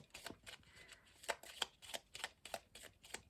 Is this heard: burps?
no